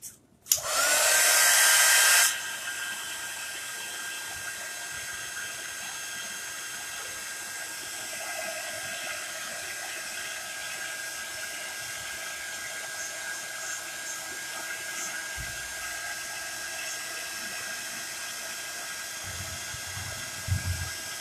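A heat dryer blasts loudly for about two seconds while drying chalk paste, then continues as a steady, fainter whirring hum for the rest of the stretch, with a few low bumps near the end.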